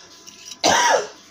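A single close cough with harsh throat clearing bursts out after a quiet moment, loud and brief, with no talking during it.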